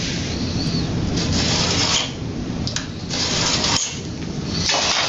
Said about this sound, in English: I'm going to scribe another line.